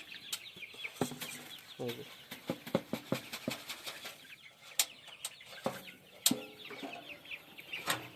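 Chickens on a poultry farm cluck and squawk in irregular bursts, with sharp nearby calls and some wing flapping over a busy, restless flock murmur.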